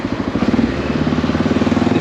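A Honda XR650L motorcycle engine runs steadily close by, giving a continuous low, throbbing exhaust note with a fast regular pulse and no talk over it.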